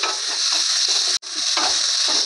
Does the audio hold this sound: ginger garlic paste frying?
yes